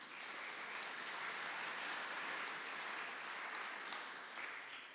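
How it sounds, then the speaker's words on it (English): Delegates at the STUC Congress 2025 applauding, a dense, even wash of clapping throughout a large hall, sustained and fairly distant with no talk over it. "So give yourselves a big round of applause."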